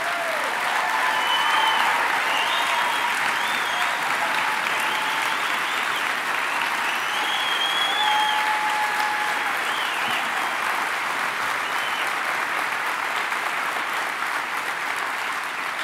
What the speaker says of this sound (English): You're on your feet applauding